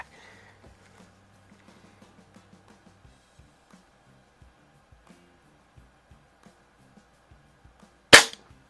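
A 1920s Haenel Model 1 vintage airgun fires a single sharp, loud crack near the end, after a stretch of quiet faint clicks and handling sounds.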